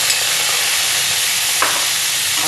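Tomatoes go into a pan of ginger frying until golden, and a loud, steady, close sizzle fills the whole stretch with a faint stirring scrape partway through.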